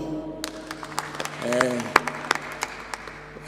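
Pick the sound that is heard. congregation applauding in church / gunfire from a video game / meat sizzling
congregation applauding in church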